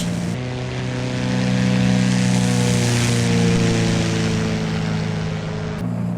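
Carenado Piper PA-28R single-engine piston airplane in a flight simulator, its propeller engine holding a loud, steady droning roar through the takeoff roll, with no talking.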